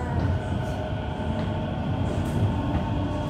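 A metro train running, with a steady, loud rumbling drone and faint rail hum heard from inside the carriage, continuous throughout with no speech.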